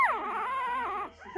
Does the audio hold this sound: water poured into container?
no